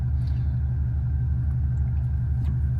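A modified Subaru Bugeye WRX drives along with a steady, deep engine rumble heard from inside the car, constant and fairly loud without clear revving changes.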